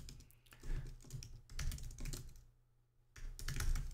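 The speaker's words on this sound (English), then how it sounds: "on wireless Mac Magic Keyboard." Key clicks from a wireless Mac Magic Keyboard come in quick, close bursts with a brief quiet gap before typing resumes, no talking.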